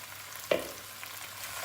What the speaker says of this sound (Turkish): Salçamız dibine sarmaya başladı. Patatesleri ilave ediyoruz.